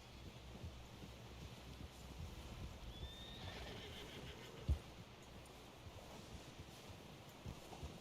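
In Red Dead Redemption 2, a horse gives a brief whinny over wind-like ambience, with hoof clops and a single sharp thump partway through.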